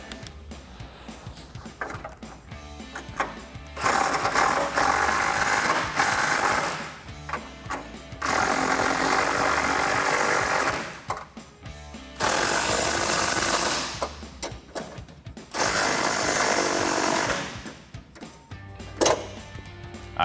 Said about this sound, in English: now we can take our 18 millimeter socket and snug everything up